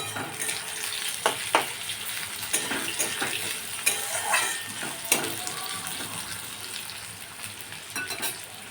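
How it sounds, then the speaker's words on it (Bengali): Onions fry in oil over medium heat, giving a steady, fairly loud sizzle with occasional scraping stirs of a utensil against the pan. "এই পেঁয়াজগুলো ছেড়ে দিলাম। এগুলো আমি ভাজবো"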